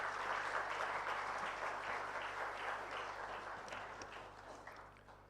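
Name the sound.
audience applause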